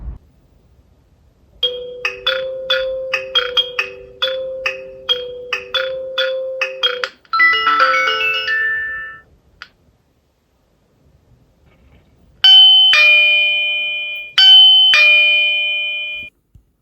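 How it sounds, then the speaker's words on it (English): An AOSU video doorbell home base plays a rapid repeating electronic chime melody, then a short jingle, then a two-note ding-dong rung twice, loud and clear with no voices. "Then we have 3 chime settings for the home base."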